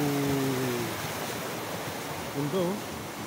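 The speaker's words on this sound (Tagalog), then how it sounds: "Ito na yata yung ilog nila" A river rushes steadily nearby with a broad, even wash of flowing water, while brief voices come through at the start and again near the end.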